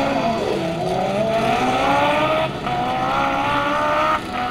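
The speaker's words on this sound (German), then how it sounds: "Und rechts Jori Schenzel, sein erster Start." A 210 hp Suzuki Hayabusa drag racing motorcycle with a lengthened swingarm launches from the start, its engine held at a loud, sustained high-pitched roar that rises steadily in pitch with brief dips as it accelerates hard.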